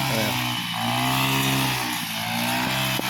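A grass cutter engine runs continuously at close range on a farm where pullets are raised, a steady buzzing drone with slight dips in pitch and a brief tap near the end, with no speech over it.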